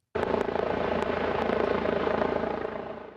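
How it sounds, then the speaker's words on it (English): Helicopter landing on a high school football field, its rotor and engine roar starting abruptly and holding loud and close with a fast pulsing chop, then slowly fading at the end. "landed a helicopter on Quincy High School's football field"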